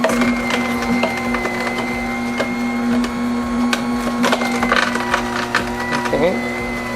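A Kedemas slow masticating juicer crushing pieces of produce, a steady motor hum under irregular cracking and splintering crunches that repeat close by throughout.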